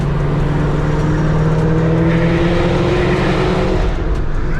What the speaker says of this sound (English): I just love the way this Corsa sounds with these American Racing headers.